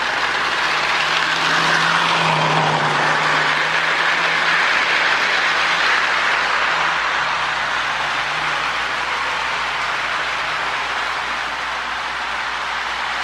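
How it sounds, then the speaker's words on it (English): A long Lionel-powered model train of Marx automatic log dump cars rolls steadily past, a continuous broadband rumble and whir of small wheels on track, loud and close, slowly easing slightly over the run. "See, it's a pretty long train of all log cars."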